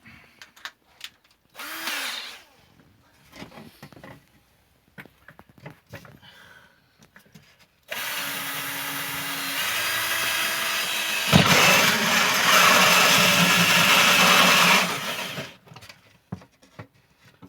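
A close electric drill whirs in short bursts in a workshop, then runs in a long sustained spin that rises in pitch before stopping, with quiet clicks and handling between.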